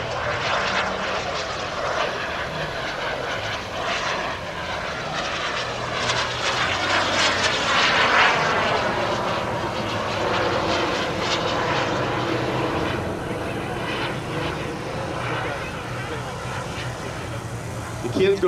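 Carf Models F-100 and MiG model jets, turbine-powered and running on kerosene and diesel, at an outdoor flying demonstration, a loud sustained whine and roar that swells and shifts in pitch as they pass, with a commentator talking over it.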